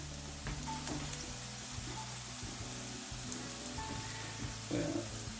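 Chopped tomato, about 400 grams, hits a hot pan for an egg and potato masala curry, setting off a steady close sizzle and crackle with a few scraping stirs.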